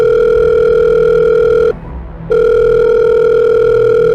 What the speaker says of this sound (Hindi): विराट अपने एक दोस्त कोहन को फ़ोन लगाता है